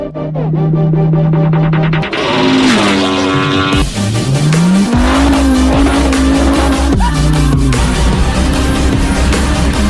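A supercharged V10 Dodge Viper screams on a dyno, heard very loud and close, with the revs climbing through gears and a sustained high-pitched wail, then dropping back to a low rumble.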